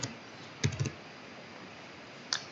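A few quick keyboard keystrokes on a computer, a short cluster of clicks and one later tap, faint against a quiet room hiss.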